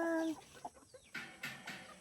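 Large young chickens on a farm clucking in short, soft calls close by, a few separate bursts with brief gaps between them, no talking.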